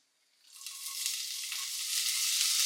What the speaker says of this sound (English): When you put the cumin seed, you need to make a popping sound.